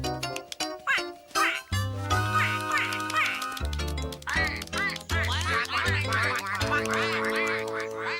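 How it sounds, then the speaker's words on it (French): A mother duck quacks repeatedly and loudly in a nature setting, her calls overlapping a steady musical background with no talk. "Oh, maman canard, attends, tu as perdu un de tes bébés."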